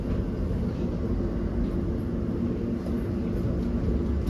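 A London Overground Weaver line train to Enfield Town runs with a steady, loud low rumble and rolling hum from inside the carriage, unbroken and without voices.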